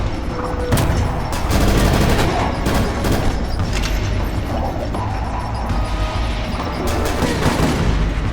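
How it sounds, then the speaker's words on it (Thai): Dense gunfire and grenade launcher explosions in the video game Incision roll on continuously, loud and chaotic, with blasts overlapping throughout. "ยิงลูกระเบิด"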